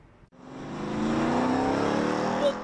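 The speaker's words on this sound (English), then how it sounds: "The constant revving of engines up and down Woodward Avenue" A car engine on Woodward Avenue revs up hard and holds a loud, sustained roar for about two seconds, with a brief spike near the end. No voices are heard.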